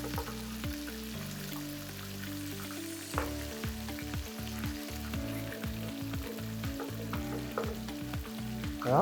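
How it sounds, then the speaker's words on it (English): Garlic-powder sauce for barbecue chicken wings cooks and reduces in a pan, with a steady close sizzle and bubbling broken by repeated scraping stir strokes and light utensil knocks, no talk. "Stir and let it cook until it reduces."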